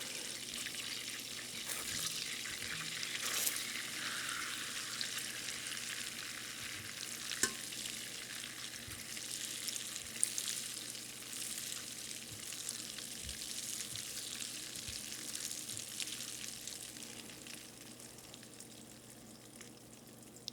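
Butter browning in a pan for cookies, giving a steady, dense sizzle and foaming crackle that stays close and continuous and slowly grows quieter toward the end, with a few faint clicks and no talking.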